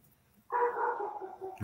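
A single dog barks loudly and close by, one drawn-out sustained bark or growling yelp lasting about a second, ending in a brief noisy burst.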